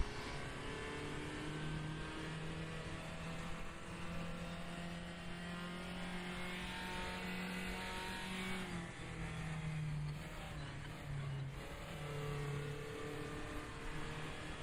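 A race car engine in the RaceRoom racing game drones steadily at high revs, with pitch rising and dipping through gear changes and corners over a constant loud roar.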